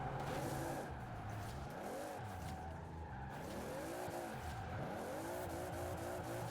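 Video game 1600 hp Toyota GT86 drifting in Forza, tires squealing continuously while the engine revs rise and fall in sweeping arcs through corners, steady and mid-loud with no talk.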